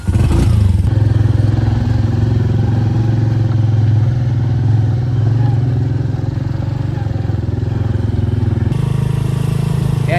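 A motorcycle engine drones steadily at close range with some rattling clatter, a continuous ride with no speech.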